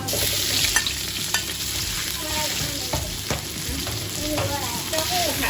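Minced pork stir-fried in a pan for tofu with pork, a close spatula scraping and tapping in irregular strokes over a steady sizzle, with no voices.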